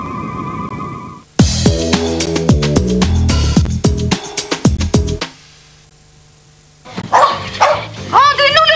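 A dog barks repeatedly in a French Champomy television commercial from 1996, the loud yips and barks set over a bouncy jingle, with voices speaking and singing around them.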